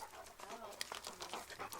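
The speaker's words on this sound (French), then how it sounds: "Il faisait chien guide d'aveugle et du coup je l'ai récupéré parce qu'il est à la retraite" A retired guide dog pants quietly in quick, rhythmic breaths, close by but faint, with light background noise and no talking.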